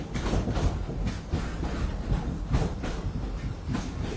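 A train ride at Disney's Animal Kingdom, with loud, close rumbling and rhythmic clickety-clack of wheels on rail joints repeating throughout, and no talking.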